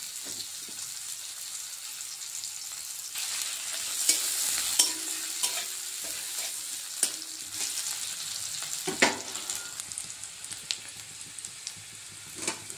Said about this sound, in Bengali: তেল গরম করে পেঁয়াজটা লাল লাল করে ভেজে নেব